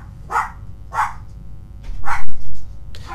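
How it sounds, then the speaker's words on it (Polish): A household dog barks three times, sharp and fairly close, in two quick barks and then a louder one after a pause, with faint room noise underneath. "Mój pies szczeka!"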